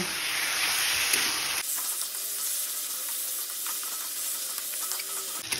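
Peeled mashed brinjal stirred in a hot pan: a hissing sizzle at the start drops to a softer, steady scraping and bubbling as it is mixed, close by with no voices.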